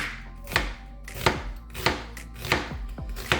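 A knife chopping an onion on a cutting board, five crisp, evenly spaced chops close up with quiet pauses between them.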